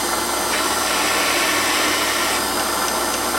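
A Warco metal lathe centre drills a workpiece, making a loud, steady broadband whir and hiss that runs continuously without pause and with no voices.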